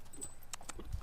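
A horse trots during a lunging session, giving a few faint, evenly spaced hoof clip-clops against a quiet background.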